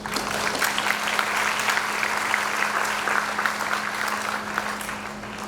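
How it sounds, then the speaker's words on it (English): A university first-year orientation audience claps for parents and guardians, a sustained, even applause from a large crowd with a steady low hum running beneath it. "you deserve a round of applause"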